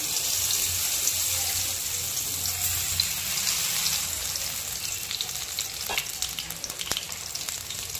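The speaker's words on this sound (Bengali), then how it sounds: "এবার আমি ম্যারিনেট করা বেগুনটাকে এর মধ্যে ভেজে নেব" Marinated eggplant dropped into hot oil in a kadai, sizzling loudly and continuously at close range, with a couple of brief knocks near the end and no voices.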